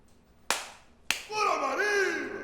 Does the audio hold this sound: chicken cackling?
no